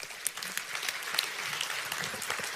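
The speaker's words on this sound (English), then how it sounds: "give everybody a hand" A large audience at a motivational seminar claps steadily, a dense even wash of applause continuing from start to finish with no voices over it.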